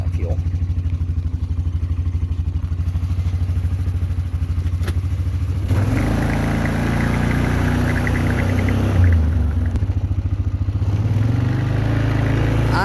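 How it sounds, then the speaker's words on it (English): An old four-wheeler ATV engine idles steadily nearby on a farm, then rises into a louder, rougher run about halfway through, with clattering mechanical noise on top. "hop on the old four-wheeler here and head over to the field"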